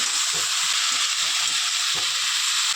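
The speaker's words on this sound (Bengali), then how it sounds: "এবার আমি এটাকে আবার কিছুক্ষণ ভালোভাবে নেড়ে নিব" Kochu saag with turmeric and salt fries in a pan, giving a loud, steady sizzle with soft scraping and stirring knocks underneath.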